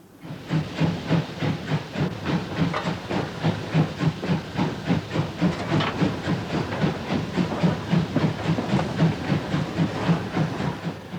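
A steam locomotive hisses and chuffs in a fast, steady rhythm, loud and continuous, with rattling mechanical clatter underneath.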